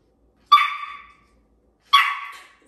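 A teacup Yorkie puppy gives two sharp, high barks on cue, about a second and a half apart, close and clear, with silence around them.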